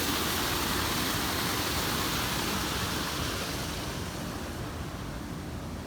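A steady, full roar of falling water from waterfalls at Disney's Animal Kingdom, broad and constant, fading slightly toward the end.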